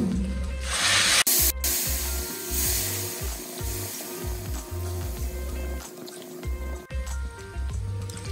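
Water pours from a bowl into a pot of rice and toor dal for Khandeshi masala khichdi, a close, steady splashing and gurgle broken into several short pours with brief pauses between.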